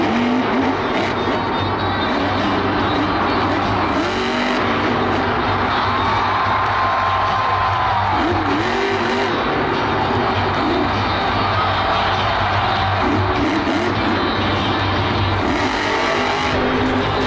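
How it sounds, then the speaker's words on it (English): The Gravedigger monster truck roars loudly and steadily at a monster truck show, its engine noise filling the space under a constant wash of crowd cheering. "This is a wild sight from the famous Gravedigger monster truck."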